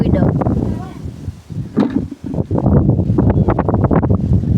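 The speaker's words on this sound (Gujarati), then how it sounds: "પવન તો જો કેટલો ઉડ્યો." Strong wind gusts across a farm ahead of rain, buffeting the microphone with loud, continuous roaring that dips briefly midway before surging back.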